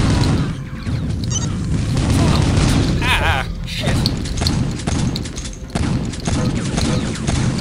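Weapon fire in Quake 3 with the Generations Arena mod: heavy booms and thuds land in quick succession during a hectic arena match, with mechanical clanks and a voice talking over the action.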